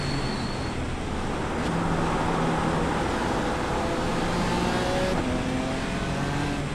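BMW race car engine driven on a water-soaked Okayama track in the iRacing game, a steady loud drone with shifting engine tones and continuous wet road hiss throughout.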